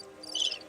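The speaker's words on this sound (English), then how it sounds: "Crickets." A crickets-chirping sound effect played from a soundboard button: a brief, faint burst of high, shimmering insect trills that swells briefly in the middle and then fades, with no talking over it.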